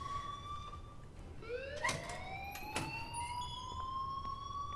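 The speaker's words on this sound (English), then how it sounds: "please turn off that alarm since that's your job" An alarm sounds in the video game Life Is Strange, repeating rising electronic wails that sweep upward in pitch, one after another. It is moderately quiet and steady, with no voices over it.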